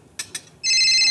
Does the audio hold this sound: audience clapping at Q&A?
no